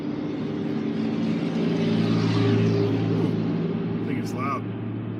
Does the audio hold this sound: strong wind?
no